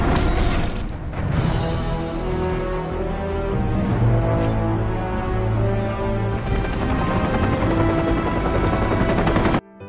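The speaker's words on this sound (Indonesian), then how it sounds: "tiba-tiba, datanglah sebuah helikopter yang menjemput kelompok Villain" Helicopter arriving in an action scene from The Expendables 2, a loud continuous rotor and engine roar with dense low rumble and bursts of gunfire-like impacts, steady throughout before cutting off abruptly at the end.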